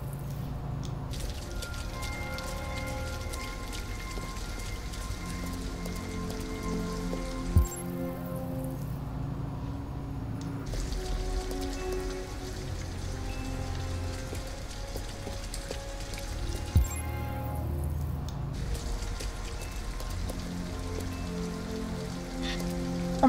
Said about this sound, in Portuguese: Pelo menos a gente sai da chuva.